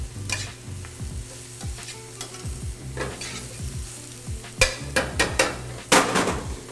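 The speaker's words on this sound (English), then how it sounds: "The beet leaves only need about a minute just stirring into the onion and the garlic" Beet greens are stirred into onion and garlic sizzling in a pan, with a steady frying hiss and a spoon scraping and tapping against the pan at an uneven rhythm.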